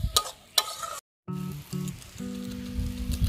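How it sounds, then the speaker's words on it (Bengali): A spice paste sizzles and crackles in hot oil while it is fried and stirred. The frying is close and steady, with brief scraping and a short gap. No one speaks. "যতক্ষণ না তেল ছেড়ে যায় এর থেকে ততক্ষণ আমরা এটাকে ভালো করে কষিয়ে নেব"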